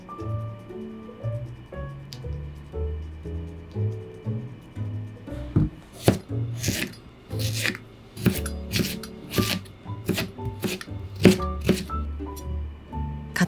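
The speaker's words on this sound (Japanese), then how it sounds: "きゅうりも同じ大きさにカット。" A knife chops cucumber and celery on a cutting board, the crisp, irregular strikes starting midway and repeating rapidly over soft background music.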